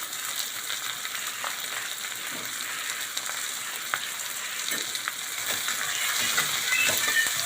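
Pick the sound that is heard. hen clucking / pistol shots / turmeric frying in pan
turmeric frying in pan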